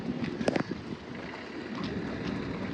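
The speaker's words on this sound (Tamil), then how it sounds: "ஆனால் வெதர் வந்து சரியில்லை குளிர் காற்று ஒரே" Cold wind blows outdoors on a summer holiday trip, a steady broadband rush with a few brief gusty bumps near the start, close to the microphone throughout.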